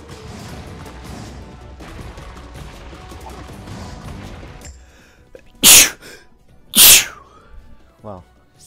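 Two loud, sharp cartoon sneezes ring out about a second apart in the platform game Kaze and the Wild Masks, after steady game music cuts out, and a short springy effect follows.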